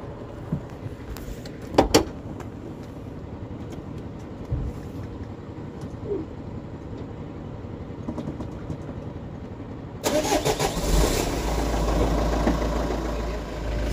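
A van's engine cranks and catches around the ten-second mark, then settles into a loud, steady idle close by; the first stretch holds only faint background rumble and a few knocks.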